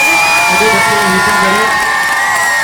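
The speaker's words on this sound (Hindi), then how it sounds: "जोरदार तालियों के साथ स्वागत करें" Crowd cheering and shouting at a school welcome for visiting officials, with dense loud children's voices sustained throughout and a bright whistle-like tone riding over them.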